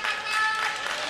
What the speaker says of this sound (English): the Japan team just taking the applause from the far side and the near side as well